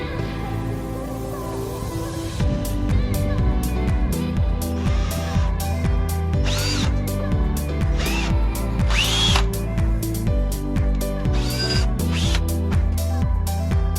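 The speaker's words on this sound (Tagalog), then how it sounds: "we have to pre-drill the wood so that it will not crack" A power drill pre-drills wood for a DIY coconut grater, a loud close whir that revs up and down in repeated bursts with shifting pitch, running continuously after a brief quieter start.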